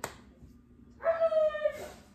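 Dog giving a short tonal whine or yelp after a brief thump, a drawn-out vocal cry lasting under a second, fairly close in a quiet room.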